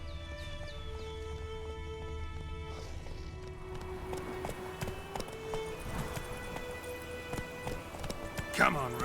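Roach, a horse in the video game The Witcher 3, gallops with a steady clip-clop of hooves under orchestral game music, with a voice speaking over it.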